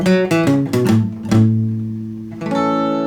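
A few quick plucked acoustic guitar notes end the introduction to a song, leading into a sustained ringing chord, then a final strum, played close and clear without voices.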